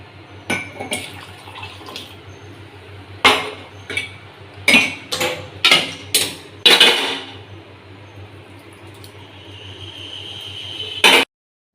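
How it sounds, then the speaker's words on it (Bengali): Tea poured from a small cup into a larger cup, with clinks and taps of crockery and a soft liquid trickle in a quiet room. "ছোটো কাপে চা হবে না বড় কাপে ঢেলে নিই"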